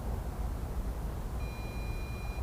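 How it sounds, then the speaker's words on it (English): A single electronic beep tone from an FPV quadcopter's radio controller sounds for about a second over a steady wash of wind-like noise. "The radio is beeping?"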